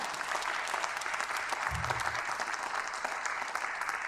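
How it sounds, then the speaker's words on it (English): Crowd applause at a high school fall concert, a dense, even wash of clapping sustained throughout with a brief low thump partway. "We give them all a big round of applause."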